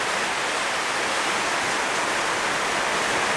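Rain falls outside as a steady, even hiss of broadband noise, continuous and fairly close, with no voices over it.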